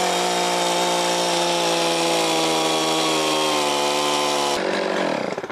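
Chainsaw chewing through a wet, rotten tree stump during professional stump removal, its loud steady engine whine holding constant pitch before a sudden drop near the end as the cut changes, no voices.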